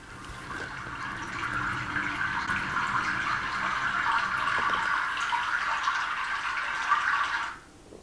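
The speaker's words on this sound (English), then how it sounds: "I like the glow of the river there and the sound as well" Flowing river water effect from a Lego treehouse light kit, a steady hissing trickle that plays for several seconds and then cuts off abruptly.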